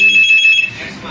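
A telephone rings in a room where a laptop's hard drive is being swapped for an SSD, giving a loud, steady electronic pulsing tone for about half a second before it cuts off into quieter room noise.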